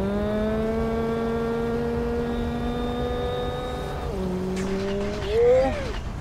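A motorbike engine in the Kamen Rider Battride Wars II video game hums steadily and climbs in pitch, dips briefly, then revs up sharply near the end over a constant background of game sound.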